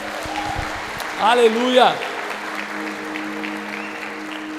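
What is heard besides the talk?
congregation applauding in church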